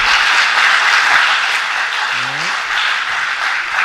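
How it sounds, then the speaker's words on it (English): Audience applause at a high school spring concert, a loud, sustained wash of clapping filling the room, with a brief voice cutting through midway. "If we can give him a round of applause."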